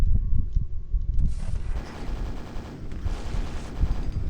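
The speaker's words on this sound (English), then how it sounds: "I'm going to take out the super nail gun" Super nail gun in the video game Quake fires a steady, dense stream of rapid mechanical shots, loud and continuous with no talking over it.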